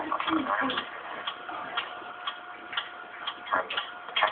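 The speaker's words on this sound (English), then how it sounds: "What is that mysterious ticking noise?" A steady ticking beats in a regular rhythm, close and fairly loud, a few light knocks scattered among the ticks and speech-like sounds mixed in.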